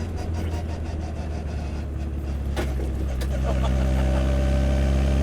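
A 1968 Austin Mini Cooper cafe racer with a race cam pulls uphill in third gear, its engine a steady, loud drone from inside the car that grows slightly fuller toward the end, with no talk.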